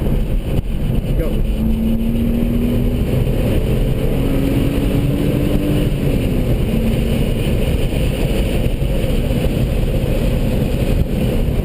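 A BMW E36 circling the Streets of Willow track during a high-performance driving session, its engine holding a steady loud drone with a gradual rising pitch under heavy wind buffeting, continuous throughout.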